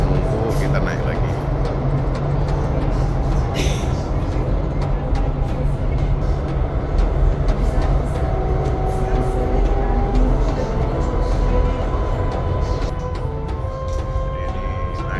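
A rail car in Istanbul climbs uphill on its tracks with a continuous low rumble, metallic squeals and clatter, while voices are heard over it.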